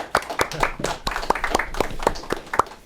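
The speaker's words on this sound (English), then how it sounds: "Clap it up. Clap it up." A small group clapping at the close of a debate segment on a basketball reaction show, with sharp, close hand claps about every quarter second, slightly uneven, for nearly three seconds.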